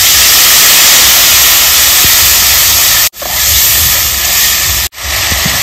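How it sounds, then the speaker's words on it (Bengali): Water goes into a hot pan of sizzling spice paste with whole cumin for a village-style hilsa fish curry, producing a loud, close, continuous steamy hiss that cuts out sharply twice for an instant. "এবার মশলার বাটিতে আমি দিয়ে দেবো 1 বাটি জল।"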